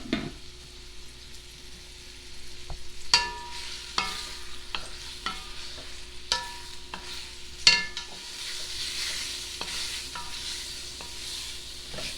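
Flour-coated beef chunks browning in olive oil for a Guinness stew, a soft continuous sizzle under irregular clacks of a utensil turning the meat, moderately quiet and close.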